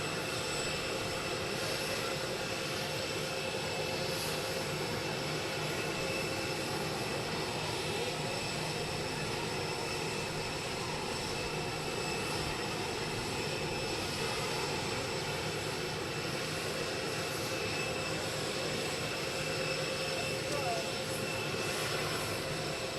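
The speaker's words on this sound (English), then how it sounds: "coverage of the arrival of Air Force One here at Palm Beach International Airport" Air Force One, a presidential jet, arrives at Palm Beach International Airport with a loud, sustained jet-engine roar that stays steady and unbroken on the tarmac throughout.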